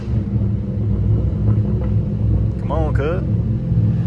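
A modified Chrysler car engine rumbles loud and deep, its revving echoing off surrounding walls as a steady roar throughout, with someone talking briefly over it.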